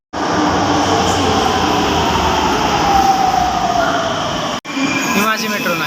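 A metro train at a city station sends out a loud, continuous rumble and whine, with a motor tone gliding downward, broken briefly near the end.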